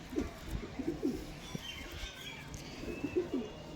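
Soft, low pigeon coos repeat in short rolling phrases close by, over a faint hum of background noise.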